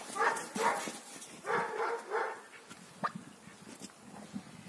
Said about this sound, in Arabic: حتة النباح.